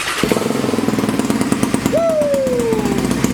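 A Can-Am DS450 sport quad engine runs with a loud, rapid, throbbing putter close by, and a whistle-like tone sweeps briefly over it partway through.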